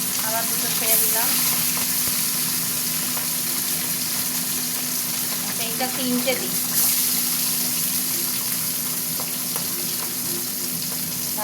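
Pieces of bhola fish fry in hot oil in a pan with a steady, loud crackling sizzle that runs throughout while someone talks over it.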